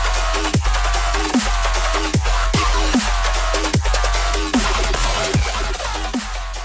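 DJ double drop mixing two tracks, with midrange cut from one of them; loud, dense electronic music with heavy pounding kicks and choppy high-end synth stabs in a fast, steady rhythm.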